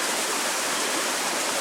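Steady rushing roar of a stream and waterfall at Savica Falls in Slovenia, heard close up as continuous broadband white-water noise with no breaks.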